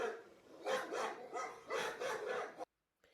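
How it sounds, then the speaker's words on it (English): A dog barks in a quick series of about five or six sharp, close barks with short pauses between them, then the sound cuts off abruptly into silence. "Dogs bark."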